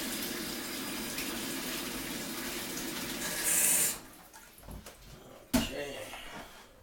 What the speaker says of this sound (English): I already let the tap water run a while, so it's recommended to do that before filling them up.